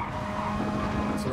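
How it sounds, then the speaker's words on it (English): In the video game GT Sport, race car tires squeal and skid over the engine's steady drone during a Nurburgring 24h race, a short, loud, continuous screech. "Tires are getting a little bit squirrely."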